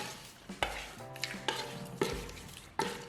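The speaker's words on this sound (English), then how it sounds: "A quick stir." Ugba (oil bean seed) being stirred with salt and onion in a pot, a few distinct scraping strokes of a spoon against the pot in quick rhythm, close and fairly soft.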